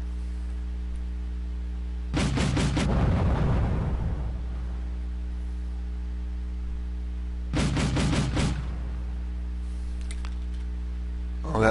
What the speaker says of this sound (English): that Lux does have some nice cannon shots on it